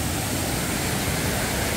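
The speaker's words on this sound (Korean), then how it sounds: "여기서 이제 저 아래로 떨어지면서 폭포를 이룹니다" Okryang Falls on Baegak Mountain in Sangju, Korea, a waterfall of roughly 20 to 30 metres dropping between rocks, gives a steady, loud, unbroken broadband roar throughout.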